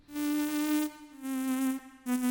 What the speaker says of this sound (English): now you can kind of hear that much more buzzy, modulated kind of sound